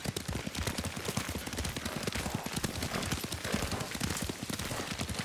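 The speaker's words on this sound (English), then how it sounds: "Lord Sakai taught me to ride a horse" Horse hooves clip-clop in a steady quick rhythm as a horse is ridden in Ghost of Tsushima, loud and close, a dense run of hoofbeats throughout with no talking.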